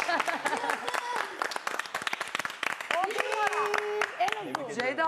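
Applause breaks out in a reality-show studio for a man named Adnan, many hands clapping in a dense, irregular patter under lively speech and voices throughout.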